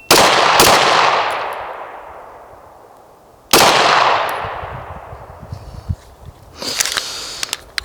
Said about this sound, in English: I think I'm shooting better with this.